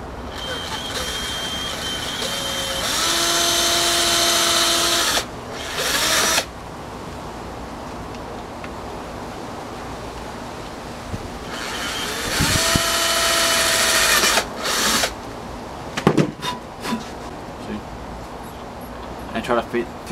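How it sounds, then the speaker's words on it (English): Power drill boring through plastic while building a cheap homemade sandblaster, heard as close, loud whining bursts of drilling with pauses between them and a few clicks and knocks of handling. "Drill right here by the plastic."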